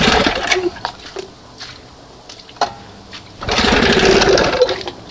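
A 1971 20 HP Johnson outboard motor runs rough on only one cylinder. It gives an uneven, sputtering rattle that drops out and surges back, loudest near the end.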